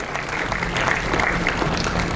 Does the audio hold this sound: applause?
yes